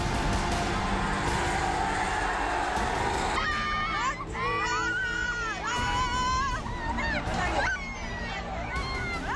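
An unruly mob surges through city streets in Maharashtra after an iron barricade collapses, with loud continuous crowd roar and overlapping shouting voices rising midway and carrying on throughout.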